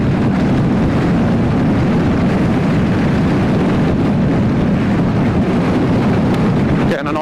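Wind blasts off the windscreen of a Yamaha Niken 900 motorcycle into a rider's crash helmet, a loud, continuous low roar and buffeting that stays steady throughout.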